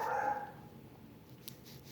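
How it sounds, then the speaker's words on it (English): Dogs barking outside a building in the alleyways: a short burst of distant, faint barking near the start, then quieter low background with a small click later. "I can hear the dogs outside of the building barking in the alleyways"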